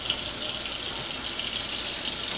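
Water pouring steadily from washed rice, drained by tipping the pot rather than using a sieve, a constant hissing splash throughout.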